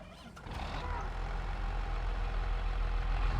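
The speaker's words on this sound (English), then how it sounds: "Let's get the tractor." Tractor engine idling in a farming video game, a low, steady diesel rumble that swells slightly after the first half second and then holds even and continuous, alone with no talk.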